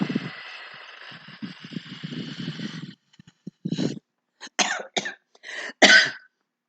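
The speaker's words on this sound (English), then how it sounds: "I coughed." A person coughs several times in quick, sharp bursts, close and fairly loud, after a steady stretch of breathy exhaling through pursed lips.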